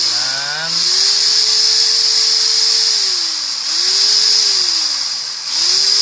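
A power drill bores into the tail end of a handmade jump frog fishing lure, its whine rising and falling in pitch as the bit loads and frees, continuous and close for several seconds.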